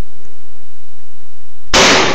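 A single loud, sharp shotgun blast outdoors, cracking suddenly after nearly two seconds of near silence and ringing briefly before the end.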